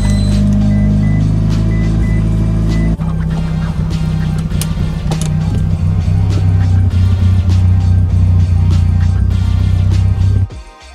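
A Mitsubishi Evo 9 on a test drive: a steady, loud engine drone with a low rumble, shifting pitch partway through and ending abruptly.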